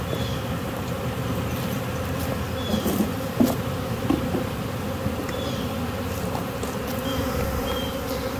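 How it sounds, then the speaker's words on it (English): A large swarm of honey bees being caught and dumped into a basket fills the air with a dense, continuous buzzing hum, steady and close, with occasional louder bees passing near and no voices. "So this is a really nice swarm of bees."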